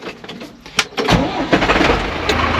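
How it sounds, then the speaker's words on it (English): An old farm tractor engine on a Christmas tree farm cranks with a few clicks and coughs, then catches and settles into a loud, rough idle close by. "This is our oldest tractor."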